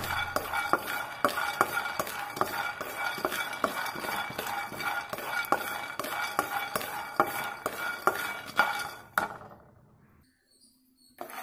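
Peanuts dry-roast in a pan with no oil, rapid rhythmic scraping and rattling of the nuts under a spatula, close and steady, stopping near the end with a brief clink before near silence.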